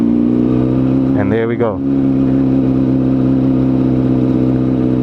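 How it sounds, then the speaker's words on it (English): A motorcycle engine idles steadily and loud as the clutch is eased out, then rises briefly in pitch with a short blip of throttle before settling back; a voice speaks briefly over it. "slowly release your clutch until it's out completely. Slowly, slowly. My clutch is out completely, and I give a bit of throttle"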